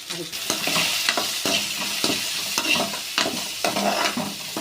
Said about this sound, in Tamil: கறி வடகம் போட்டு கருவேப்பிலை ஒரு பச்சை மிளகா சின்ன வெங்காயம் போட்டு நல்லா